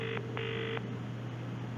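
Telephone line tones sound as a call is transferred to a college course department, two short electronic beeps in quick succession over a low steady hum, then fading into line noise.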